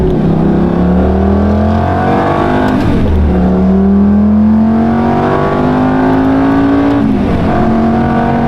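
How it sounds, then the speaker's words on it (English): A stock Lamborghini Gallardo engine revs loudly and alone, its pitch climbing in long sweeps, dropping back around the three- and seven-second marks, then rising again. "Oh, she sounds great for being the stock"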